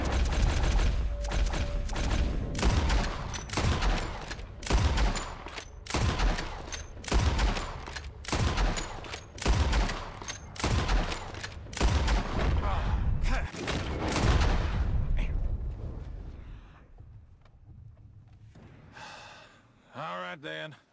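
Loud gunshots fired at birds in Red Dead Redemption 2 ring out in a steady series, roughly one every second, for about fifteen seconds before the scene drops to quieter sounds with some breathy vocal noises.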